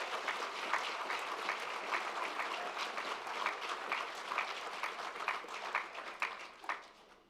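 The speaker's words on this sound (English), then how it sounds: "So I'd give yourself a round of applause," Steady applause from a crowd at a virtual graduation ceremony for psychology graduates, a dense continuous clapping wash lasting throughout at moderate level with no voices over it.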